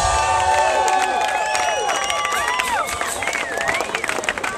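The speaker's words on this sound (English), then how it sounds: "how about a big round of applause for Pogi and all the other musicians" Live audience at a pub gig by the American Wake Elders cheers and claps for the musicians, a steady crowd roar with whoops and shouts running throughout.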